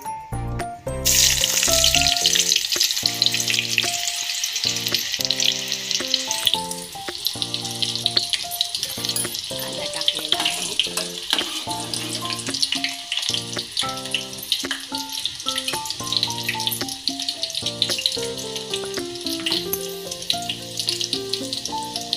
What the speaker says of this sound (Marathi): हे बघा, तेल गरम झालेलं आहे. आता टाकायचा कांदा सगळ्यात सुरुवातीला.